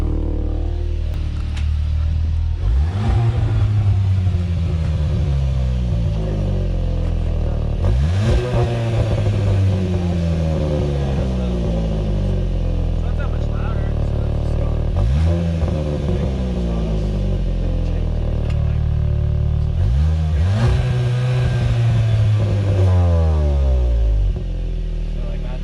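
A Volkswagen Mk7.5 GTI with a newly installed exhaust is revved repeatedly from idle, four or five sharp rising and falling sweeps at close range, with people talking over the engine.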